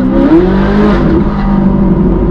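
Loud, close engine roar of a Ferrari sports car, pitch swelling as it accelerates then settling into a steady throaty drone.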